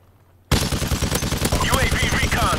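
Rapid automatic gunfire in a video game bursts in suddenly after a brief quiet start, then hammers on as a dense, loud, evenly spaced stream of shots with clinking shell sounds over it.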